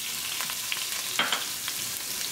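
Cumin and mustard seeds fry in a quarter cup of olive oil, a close, even sizzle dotted with sharp pops and small crackles as the seeds burst and jump.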